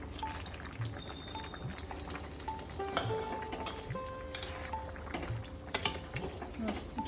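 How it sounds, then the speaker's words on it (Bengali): Bitter gourd drops into milk shukto simmering in a pan, giving a soft bubbling and gentle sizzle with light stirring clinks, steady and close. "উচ্ছেটাও দিয়ে দিচ্ছি।"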